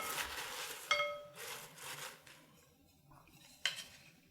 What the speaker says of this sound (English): I think I'll actually give this a quick toss before I add in the other ingredients